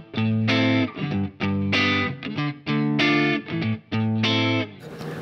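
Clean electric guitar through a Line 6 Helix Brit 2204 amp model plays a short chord riff in bursts with clear gaps, bright and full, alone without talk.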